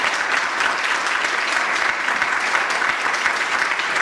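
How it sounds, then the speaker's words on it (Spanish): A crowd claps steadily for a political candidate being presented at a Partido Justicialista event in Bragado, with dense, even applause that holds at a constant level throughout. "Fuerte el aplauso para él"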